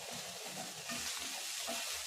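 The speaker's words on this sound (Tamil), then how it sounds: "இதிலே நறுக்கிய கருவேப்பிலையும் சேர்த்துட்டு நல்லா வதக்கி விடுங்க" Curry leaves and turmeric powder sautéing in a hot pan for an eggplant rice dish, a steady close sizzle and frying hiss with a few soft stirring scrapes throughout.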